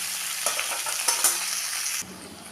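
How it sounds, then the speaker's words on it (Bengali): Sliced okra frying over low gas flame in a pan, a bright steady sizzle with a few scraping stirs of a spatula, close and alone, dropping slightly in intensity near the end. "এখন আমি গ্যাসের ফ্লেমটাকে লো করে দিয়ে এটাকে ভেন্ডিটা নরম হওয়া পর্যন্ত আমি ভেজে নেব"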